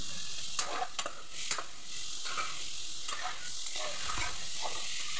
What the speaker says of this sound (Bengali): ভালোভাবে নেড়ে কষিয়ে নিব।